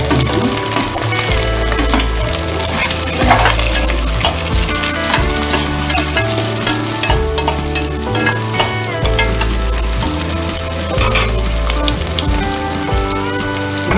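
Onions and green chillies fry loudly in hot oil in a pan, with constant sizzling and repeated clinking stirs and scrapes of a metal spoon.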